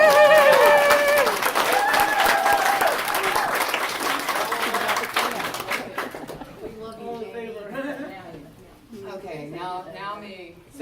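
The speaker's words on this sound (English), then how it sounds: "Yeah, you can clap if you want" Wedding guests clap loudly in a sustained burst for the first six seconds, then the applause fades as people talk and laugh nearby.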